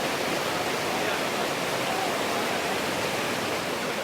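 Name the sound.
waterfall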